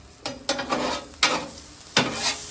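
Melted butter sizzles steadily on a hot Blackstone griddle for blackened catfish, broken by four sharp scraping bursts of a spatula on the flat steel, close and fairly loud, with no talking.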